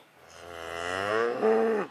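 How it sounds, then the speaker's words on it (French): One long, clear moo from a Montbéliarde heifer in a very hot far-northern setting, rising in strength and ending with a louder final push. "164 génisses montbéliardes, nées au cœur du Jura et arrivées ici par avion."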